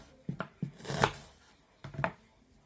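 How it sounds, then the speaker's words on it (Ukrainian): A knife slicing an onion into thin half rings on a board, a few soft, close cuts in two quick clusters separated by a short pause. "Нарізати я буду півкільчиками, тоненькими."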